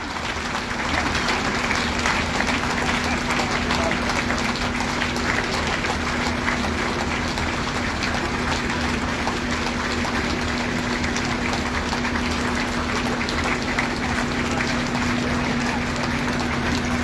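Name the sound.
audience applauding at a political meeting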